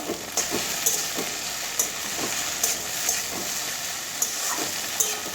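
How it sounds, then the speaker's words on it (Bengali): Okra frying in a generous amount of oil in a pan, a steady soft sizzle with periodic sharper clicks and stirring scrapes, close up with no talking. "তিন চার মিনিট পরে এরকম আমার ভেন্ডিটা অনেকটা ভাজা হয়ে গেছে"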